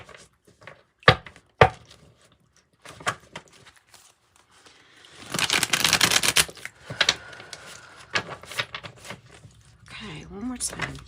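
Tarot cards are shuffled by hand in a riffling burst of rapid papery flutters after a few sharp taps of the deck, followed by scattered card slaps and clicks, with a voice speaking between the sounds.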